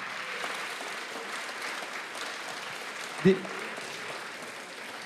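Faint, distant applause from the audience at the end of a round-table discussion on international trade, a soft, even patter with one brief knock partway through.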